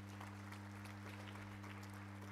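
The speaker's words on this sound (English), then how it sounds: "Please follow them with a round of applause." Audience applause at a live conference session for departing panelists, a faint, steady patter of clapping over a noticeable electrical hum.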